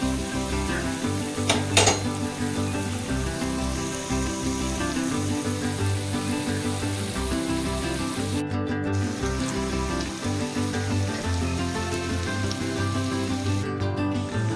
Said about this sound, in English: Now we can see that the garlic is sizzling well